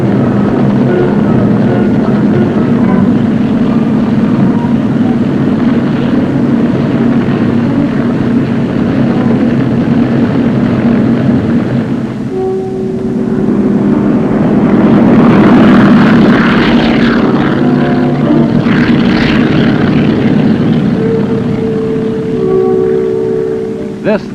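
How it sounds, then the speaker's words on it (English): Military helicopters airlifting Marines to a landing zone in Vietnam, a loud continuous rotor and engine drone with a low steady hum that shifts partway through as the aircraft pass. "Utilizing 3 centrally controlled helicopter squadrons, the men of the 3rd Battalion were airlifted to Landing Zone Oak"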